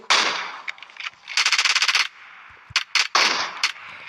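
Video game gunfire aimed at a ship on the water: rapid machine-gun bursts and separate shots, loud and close, with short pauses between the bursts and no talk.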